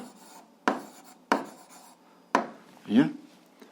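Pen writing an algebra solution by hand on paper, three or four distinct scratchy strokes spaced roughly half a second apart, close and fairly loud, with a short voiced sound near the end.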